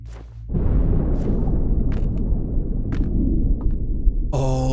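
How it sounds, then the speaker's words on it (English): A deep, muffled roar of a dam in Outer Wilds rumbles steadily as though heard through walls from inside, with a few faint clicks over it and a short bright tone at the very end. "That's the sound of the dam, but it's outside."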